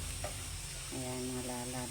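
Tilapia stuffed with tomatoes sizzles on a grill, a faint, close, continuous crackle and hiss with a soft tonal whine coming in partway through.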